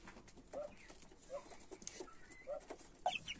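A hen with her chicks in an outdoor cage gives soft, high peeping calls every second or so, faint and close over a quiet background, with a couple of sharper chirps near the end.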